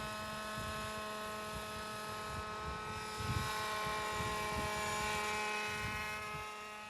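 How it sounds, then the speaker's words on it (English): A model helicopter hovers with its rotor blades spinning, giving a steady whining drone with strong tonal harmonics and a constant throbbing buzz, close and loud, with no voices. "Would you like to have a smooth flying helicopter like this one?"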